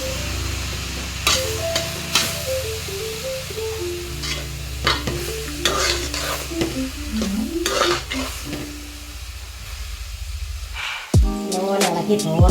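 Spinach thoran is stirred in a sizzling pan, with repeated scraping strokes and clanks of a spatula over a constant frying hiss while a soft melody plays underneath.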